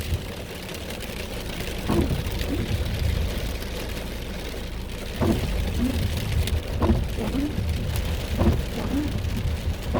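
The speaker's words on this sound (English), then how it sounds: "Oh, that was right on top of me. Big lightning." Thunder from a close cloud-to-ground lightning strike in a weak supercell rumbles low under steady heavy rain drumming on a car, with several rolling booms across the stretch.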